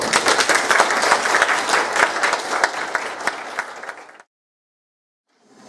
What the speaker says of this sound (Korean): 우리 박수 한번 합니다